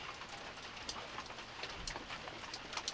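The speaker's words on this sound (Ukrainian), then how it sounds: "Зараз ось трошки дощик" Light rain patters in a forest, a soft continuous hiss broken by scattered nearby drips and small taps, faint and heard alone.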